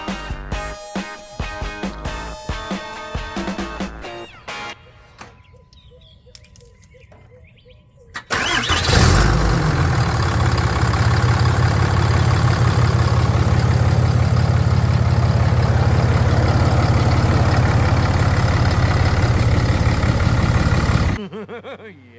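A Ram 2500 truck engine, just fitted with new motor mounts, cranks and catches, then idles loudly and steadily close by for about twelve seconds before it is switched off.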